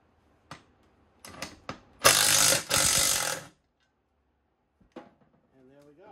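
T50 Torx screws are being removed from a Craftsman LT1000 riding mower, giving a few short metallic clicks followed by two loud bursts of ratcheting power-tool whir, with talk between them.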